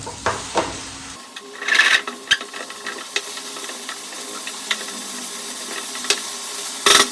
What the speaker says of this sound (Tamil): ஸோ தக்காளி போட்டு நல்லா மிக்ஸ் பண்ணி கொடுத்துடலாம்.